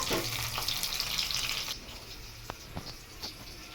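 Onion pieces frying in hot oil for a dal tempering, a steady loud sizzle for the first second and a half that drops to a quieter crackle with a few sharp pops and clinks.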